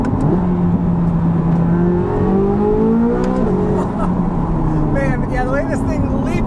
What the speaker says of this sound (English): this thing leaps to speed in those upper RPMs